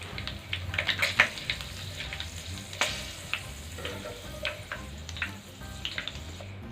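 Onion pakoda frying in hot oil, a steady close crackling sizzle with scattered sharp pops and bubbling throughout, no voices.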